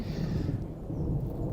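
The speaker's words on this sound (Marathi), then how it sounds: "गडगडणारं आभाळ" Thunder during a summer rainstorm, a low continuous rumble filling the short stretch, steady and moderately loud with some wind noise and no speech.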